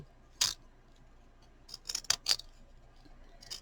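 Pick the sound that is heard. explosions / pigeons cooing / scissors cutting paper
scissors cutting paper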